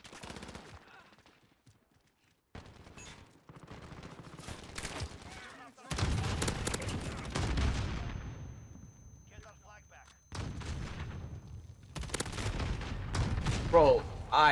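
Bursts of rapid automatic gunfire from a Modern Warfare match rattle in separate volleys between short gaps, loud and close, with a player talking over parts of it.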